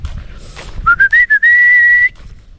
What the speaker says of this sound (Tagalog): narinig nila yung sipol ko alam nila yan